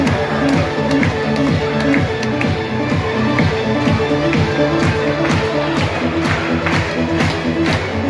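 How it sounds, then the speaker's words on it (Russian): Audience at a dolphin show at the Minsk dolphinarium breaks into crowd noise and clapping, steady and loud for the whole stretch, layered over a repeating, rhythmic musical backing. "Громче аплодисменты!"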